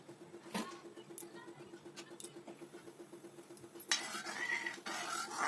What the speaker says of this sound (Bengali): দুধটা যখন দেওয়া হবে তখন একটু ভালো করে নেড়ে নিতে হবে